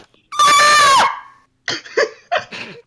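A narrator's voice imitates Sonic the Hedgehog screaming in a loud, sustained high-pitched wail of about a second that bends downward, followed by a few short voiced bursts.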